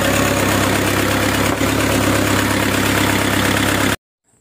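A Toyota Hiace with a hard-starting fault runs on the choke, its engine giving a loud, close, steady rumble before it cuts off abruptly near the end. No talk.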